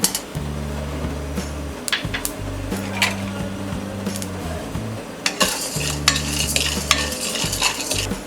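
Chana dal goes into a pan of spluttering mustard seeds, giving light crackling and sizzling under repeated metal stirring clinks and scrapes, with a low steady hum underneath.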